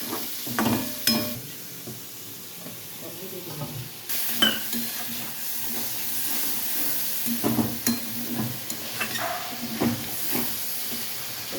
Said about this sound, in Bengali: তেল ছেড়ে দিচ্ছি, মশলাটাকে কষানো হবে।